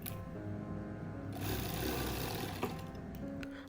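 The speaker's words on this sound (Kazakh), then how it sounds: "соңғы қатардағы лентаның шетінен астарға тігіп шығамыз" Sewing machine running a steady seam along the edge of a patchwork quilt, stitching the last row's strip through to the backing; a continuous close whirring hum with a small click partway through, no talk.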